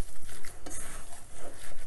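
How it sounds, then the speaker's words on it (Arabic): Burger mixture of ground meat, onion, spices and toasted breadcrumbs is worked and squished by hand in a bowl, giving close, wet, uneven squelches and soft pats over a couple of seconds. "غادي نخلط غير بيدية"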